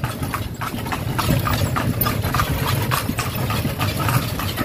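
Horse hooves clip-clop on a street in Vigan City in the Philippines, a steady uneven rhythm close by, mixed with the drone of an idling engine and general traffic noise.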